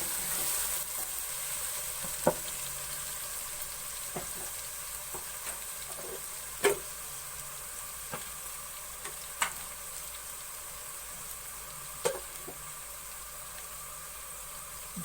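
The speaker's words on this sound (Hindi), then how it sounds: "अब 2 टीस्पून लहसुन का पेस्ट शामिल करेंगे और लहसुन को थोड़ी देर भून लेंगे।" Garlic paste fries in a pan with a steady sizzle, broken by occasional clinks and scrapes of stirring, close and moderately quiet with no talking.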